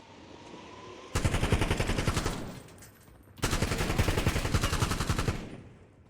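Two long bursts of rapid automatic machine gun fire from a 300-round magazine in the video game Warzone, loud and close, separated by a short pause. No one speaks.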